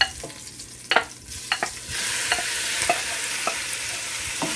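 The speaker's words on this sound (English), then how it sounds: "So folks, I'm gonna put the shrimp in" Shrimp dropped into a hot pan, a few clattering stirs and taps at first, then a loud steady sizzle of frying that carries on with occasional utensil clicks.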